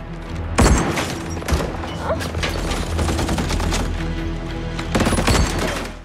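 Bursts of gunfire ring out in a film shootout as a man fires from a crane, loud cracks clustered near the start and again near the end over a dense, rumbling action soundtrack.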